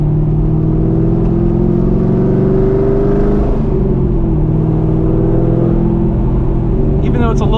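A Chevrolet Corvette C6 Z06 engine heard from inside the car while downshifting, a loud, steady low rumble that shifts pitch as the revs change, droning throughout.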